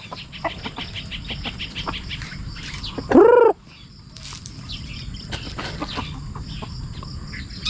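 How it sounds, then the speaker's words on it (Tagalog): Outdoor farm ambience with soft bird chirps and a brief, loud fowl call partway through, like a chicken squawking near a field hut during a harvest; faint clucks and rustling otherwise, no one speaking. "May mga manok."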